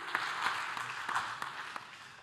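Audience applause at a French awards presentation ceremony, moderately loud clapping from a crowd with a few sharper individual claps standing out over a short stretch.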